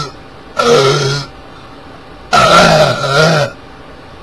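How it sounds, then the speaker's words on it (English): Two long, loud, guttural burps from someone playing Santa Claus at Christmas, each lasting under a second and separated by a short pause, with no talking around them. "Santa had a burp."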